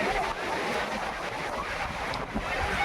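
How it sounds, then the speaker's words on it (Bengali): Rushing surf and heavy wind noise roar continuously, the dense wash of large waves breaking nearby on Sugandha Beach, Cox's Bazar. "দেখেন এই যে অনেক বড় বড় ঢেউ আসতেছে,"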